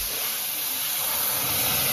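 Fish curry poured into a wok of hot oil tempered with nigella seeds and dried red chillies gives a loud, steady broadband sizzle and hiss that lasts throughout without pause.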